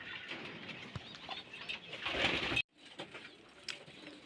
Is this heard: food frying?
no